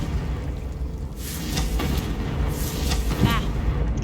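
Confringo blasting spell in Hogwarts Legacy, heavy rumbling booms that swell and roll across a few seconds, loud and close with no talk over them.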